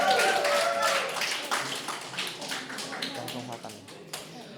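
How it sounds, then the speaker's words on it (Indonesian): Audience applause at a live stage event, a dense burst of clapping that starts loud and gradually thins out over several seconds, with voices mixed in. "Oke, tepuk tangan buat kita semuanya."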